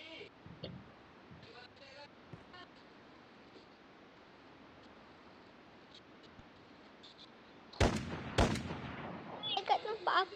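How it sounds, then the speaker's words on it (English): Sniper rifle shots in a Roblox game: two sharp, loud cracks close together near the end, following a long stretch of quiet, low background noise. "Sniper rifle."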